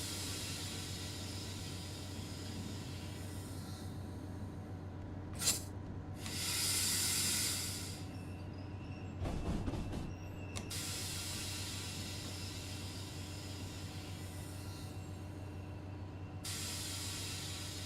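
A train runs in Train Sim World 3, its steady engine drone and rumble continuing throughout, broken by short hissing brake or air releases.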